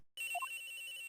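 Phone ringing in the video game Ace Attorney Investigations, a single bright electronic ring burst with a quick rising tone, near and clear, heard alone.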